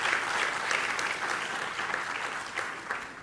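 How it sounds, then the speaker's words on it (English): Audience applause at a World Space Week inauguration ceremony at SDSC SHAR, Sriharikota: a thick, continuous wash of many hands clapping at a steady level with no clear breaks. "give a big applause for her to attend this year"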